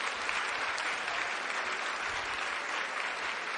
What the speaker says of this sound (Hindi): चाहूंगी कि एक बार जोरदार तालियां हमारे